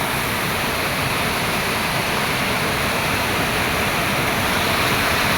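A river flows steadily over a shallow stretch with a dense, even rush of water. It sounds close and continuous, with no voices over it.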